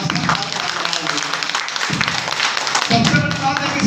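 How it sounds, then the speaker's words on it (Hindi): Applause at a business income-plan presentation for the company's MD: a dense, steady burst of many hands clapping throughout, loud and close, with brief dips where the clapping thins. "हमारे एमडी साहब के लिए एक बार जोरदार ताली होनी चाहिए।"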